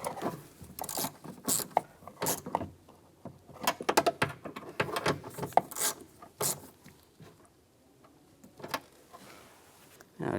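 Fastener being snugged down on an outside mirror of a 2015-2019 Lincoln MKC door, a series of close, uneven ratcheting and scraping clicks in short bursts with quiet gaps between them.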